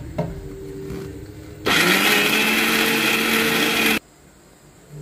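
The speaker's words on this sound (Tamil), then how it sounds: "மிக்ஸி போட்டுக்கலாம்." Kitchen mixer grinder pulverising cashews, tomatoes, onion, coconut and spices with water, a loud steady whine running for about two seconds before stopping abruptly, with no talk.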